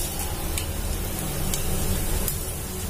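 Caraway and cumin seeds sizzle in hot oil with cardamom in a pan for Punjabi masala rajma, a steady close hiss and crackle with a few sharp pops, no talk.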